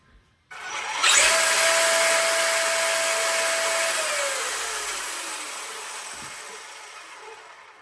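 A Traxxas XO-1 RC supercar motor spins up at half speed, about 50 mph setting, with a sudden loud whine that holds steady for several seconds and then slowly winds down, close by.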